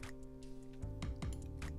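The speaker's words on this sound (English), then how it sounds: "it was making a little ticking sound" Faint, irregular ticking: a few soft clicks spaced unevenly over a steady tonal hum, with no speech.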